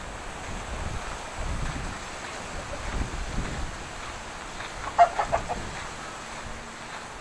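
Roosters cluck softly at a distance in Vietnam over a quiet outdoor background, with a brief louder burst of clucks near the end.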